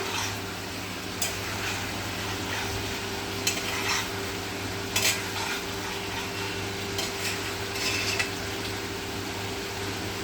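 Chicken curry meat stirred and seared in a pan, a low continuous sizzle under a steady hum, with occasional sharp scrapes and clinks of the spoon against the pan, close by.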